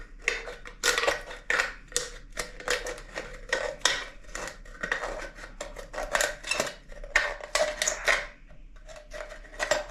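Repeated snipping and crunching of scissors cutting through thin material, in quick irregular bursts close to the listener.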